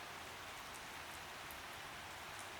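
Steady rain falls at night, a dense, even hiss of drops with no pauses and no other sounds.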